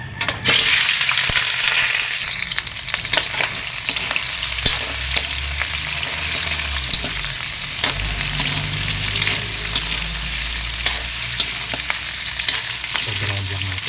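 Meat browns in hot cooking oil in a pan for a creamy mung bean dish, a loud, steady sizzle and crackle broken by frequent stirring scrapes and clatter throughout.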